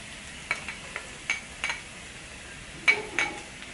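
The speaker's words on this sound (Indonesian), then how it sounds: "Kita tumis sampai layu dan harum, baru kita masukkan bawang putihnya." Garlic sautéed and stirred in a pan while cooking tuna penne, heard as scattered scrapes and clinks of a utensil against the pan over a faint, steady sizzle, with a few sharper strokes near the end.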